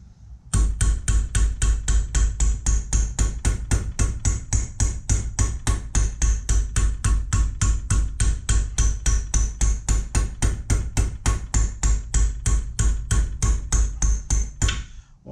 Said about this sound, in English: I'm always hitting on this edge. You don't want to cripple all that too much with the hammer